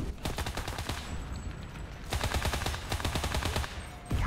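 An Italian paratrooper weapon in the video game Enlisted fires in two long rapid automatic bursts, a loud close chatter of shots broken by a brief pause.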